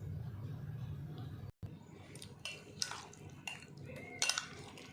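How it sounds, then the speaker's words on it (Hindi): Cream fruit chaat, mixed with yogurt, is served from a bowl onto a plate: after a brief pause come a few spoon scrapes and clinks against the dish over a soft, steady room background. "अब इसको डिश आउट करते हैं।"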